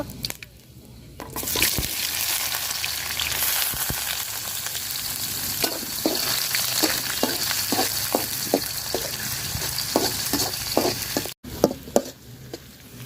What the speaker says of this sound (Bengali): তো পেঁয়াজটা দেখেন আমি লাল লাল করে ভাজা নিচ্ছি